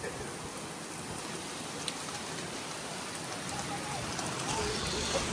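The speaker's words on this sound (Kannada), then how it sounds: "ಏನು ಬೆಟ್ಟದ ಮೇಲೆ ಬೀಳ್ತಾರ ಫಾಲ್ಸ್ ಎಲ್ಲ ನಮ್ಮ ತಲೆ ಮೇಲೆ ಬೀಳ್ತಾ ಇದೆ" Heavy monsoon water from a waterfall pours down onto hikers near the top of Harishchandragad's Konkan Kada in the Sahyadri hills of Maharashtra, a dense, steady hiss and splatter that stays close and constant throughout.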